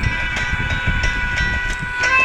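A train in the mobile game Dead Race, a loud steady rumbling ride with regular clacking beats and a sustained mechanical hum throughout.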